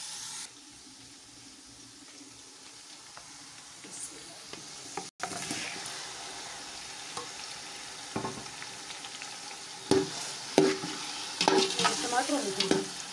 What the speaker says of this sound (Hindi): इसको घुमा के मैं इसमें टमाटर डाल दूँगी।